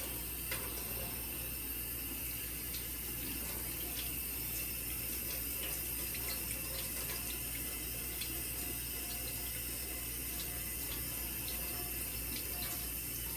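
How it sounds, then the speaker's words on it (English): Tap water flows continuously into a sink while hands are rinsed during hand-hygiene practice, an even, moderate rushing sound with faint splashes and no talk. "And then you're going to rinse off your hands."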